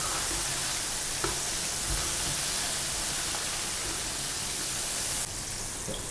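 Shrimp fry in hot oil, giving a steady dense sizzle that fills the whole stretch, close and fairly loud, with a few soft knocks and a slight drop in level near the end.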